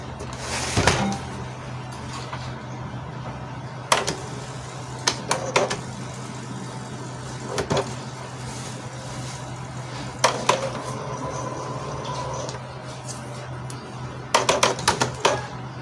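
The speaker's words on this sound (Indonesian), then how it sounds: "Kita tunggu proses printnya, tunggu proses printnya ya" An inkjet printer with a replaced cartridge and bypassed cover sensor running a print job, a steady low motor hum broken by sharp clacks and bursts of carriage movement at irregular intervals, close, no talking.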